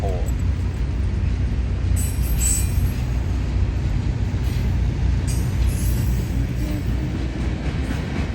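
A train rolls steadily through Folkston, Georgia, its heavy rumble and clattering wheels loud and continuous, with brief high metallic squeals and hiss bursts rising above the drone.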